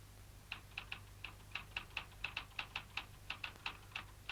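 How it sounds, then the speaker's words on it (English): Cartoon sound effect of a hamster typing on a keyboard: quick, light key clicks in an uneven rapid rhythm, faint and close over a low hum. "With a vim and a vigour known only to hamsters, he pounds away at the keyboard"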